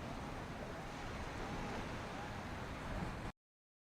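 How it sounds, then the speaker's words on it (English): Ocean waves heard as a continuous broadband wash of surf, moderately faint and steady for a few seconds before cutting off abruptly. "Some nice ocean sounds there."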